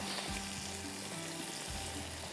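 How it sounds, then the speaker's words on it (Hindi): Spices and ingredients frying in a pan on a lowered flame make a steady, soft sizzle with occasional stirring scrapes, heard alone and without voices throughout. "मसाले के साथ ज़रा ये भुनी जाएंगी तो एक बड़ा अच्छा टेस्ट आ जाएगा।"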